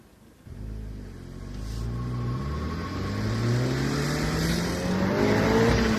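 Car engine breathing through a cotton K&N-style filter in an open-top airbox, a deep rumbling intake roar that builds steadily as revs climb, loud and close, with no talking.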